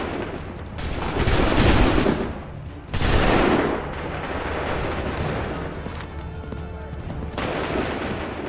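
Musket volleys crash out in the Assassin's Creed III video game, dense overlapping gunfire in loud rolling bursts, with a big blast near the start and scattered shots continuing over a battlefield din.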